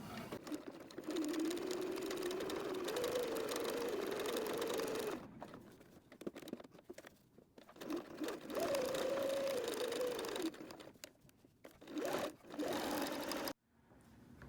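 Sewing machine stitching a felt needle book close to the fabric edge, a steady whirring run of several seconds, a pause with light handling, then a second shorter run, close and alone.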